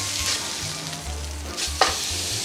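Meat sears in a hot pan with a steady, broadband sizzle, and partway through a sharp clatter marks a piece being flipped before the frying hiss carries on. No voices.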